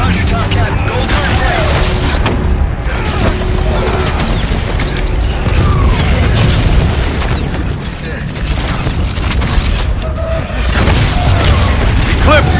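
Call of Duty: Infinite Warfare air strike explosions, a dense continuous barrage of loud booms and crashing blasts mixed with mechanical battle noise, with voices speaking over the din.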